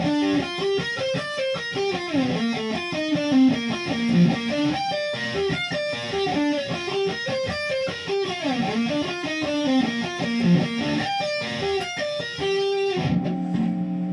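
An electric guitar plays a riff from a dubstep track through reverb and chorus effects, its quick repeated notes shimmering and rising and falling before trailing off into a brief wash at the end.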